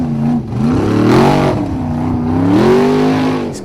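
A Formula Offroad racer on a track in Akureyri, Iceland, screams through repeated rising and falling revs, the engine pitch climbing and dipping in loud sweeping waves close by.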